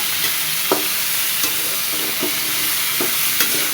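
Curry with turmeric and salt sizzles steadily in a pan while a spoon stirs it, with several distinct scraping strokes spaced about a second apart over the constant frying hiss.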